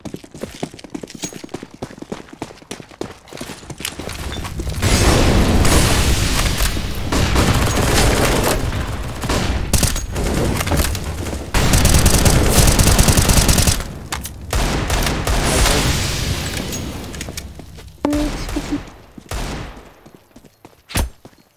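Gunfire in CS:GO on the Inferno map rattles almost continuously in dense bursts of rifle shots, loud and close, with brief quieter gaps and occasional player voices underneath.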